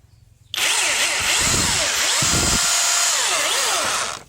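A cordless impact drill, sold with two spare batteries, kicks on after a half-second of quiet and runs loud and close. Its whine rises and dips in pitch, with heavier grinding surges, until it winds down at the end.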